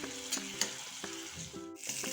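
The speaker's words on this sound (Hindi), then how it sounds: "अब इन मसालों को हम अच्छे से भूनेंगे।" Spices with chili, onion and grated garlic fry in hot oil in a pan, a steady close sizzle punctuated by scraping stirs at irregular intervals, with no talking.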